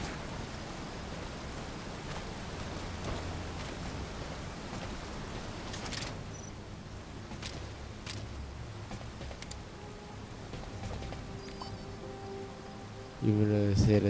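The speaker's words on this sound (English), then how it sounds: "Caution, rain approaching." Heavy rain in Metal Gear Solid V: The Phantom Pain, a dense hissing downpour with scattered drip and patter sounds, steady throughout, ending with a brief low mechanical hum.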